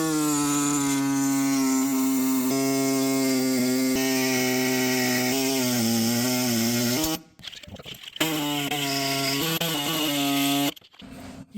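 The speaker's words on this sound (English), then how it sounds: "just go into the angle and cut that right out" A power tool cutting a notch into a Classic Mini Cooper during a JET Motors turbo kit install, a loud, buzzing tonal whine for seven seconds with wavering pitch, then choppy bursts and short gaps before the cutting resumes.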